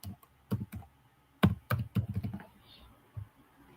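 Typing on a computer keyboard while filling in a France student visa application form online; irregular clusters of close key clicks with pauses, some quicker bursts, no talking.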